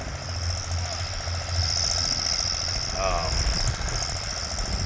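A tractor pulling a plow on a farm plow day, a loud steady rumbling engine with rhythmic knocking throughout, with voices talking faintly over it.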